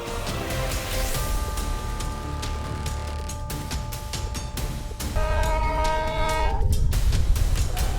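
A train runs into a wall of snow, its steady heavy rumble carrying sustained horn-like tones that swell louder and brighter over the last few seconds.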